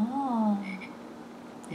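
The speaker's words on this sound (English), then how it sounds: "You hear the froggy? Ribbit, ribbit, ribbit. There's a frog." A toy frog on a Fisher-Price Rainforest play mat gives a short, electronic croak with a warbling pitch sweep, followed by faint chimes in a quiet room.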